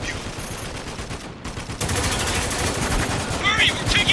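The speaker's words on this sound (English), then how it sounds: "We're taking heavy fire!" Sustained heavy gunfire in the shooter Spec Ops: The Line, a dense, loud, continuous rattle of automatic weapons filling the whole stretch, with shouted voices mixed in the chaos.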